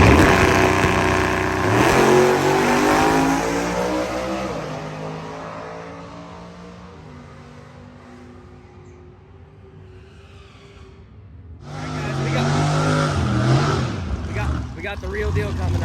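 A Whipple-supercharged Ford revs at a car show, climbing loudly, easing down to a low idle, then roaring up again in a second hard rev.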